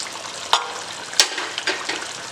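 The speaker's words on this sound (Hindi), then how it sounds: "अब हमने जो गर्म पानी किया था इसे लगभग 1 कप और डाल रहा हूँ मैं।" Hot water pours into sizzling Chicken Peshawari curry in a pan. A steady hiss of frying runs throughout, broken by a few sharp splashing bursts.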